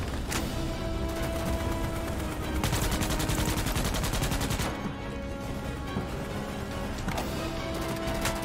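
Gun turrets in Starship Troopers: Extermination fire long, rapid automatic bursts, near and loud, over a constant hum of battle.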